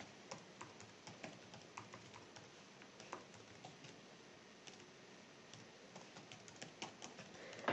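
Light, scattered clicks of a computer keyboard being typed on, faint and irregular, alone without talk.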